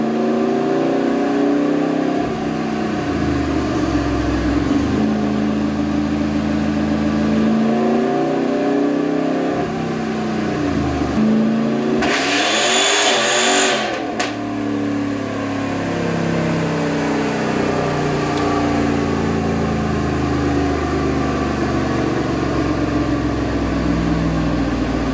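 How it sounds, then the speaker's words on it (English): A Ram Hellcat Redeye's supercharged engine is floored in fifth gear on a dyno, a loud, sustained roar that climbs steadily in pitch, dips briefly, then pulls hard again, with a sharp hissing burst midway. "get to 5th gear and then just floor it from there"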